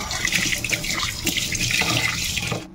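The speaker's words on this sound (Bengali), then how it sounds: "চালটা ভালো করে 2-3 বার করে ধুয়ে নেব, তারপরে জলে চালান করে দেব" Running tap water splashing steadily into a sink as rice is rinsed, a continuous close, fairly loud wash with no voices.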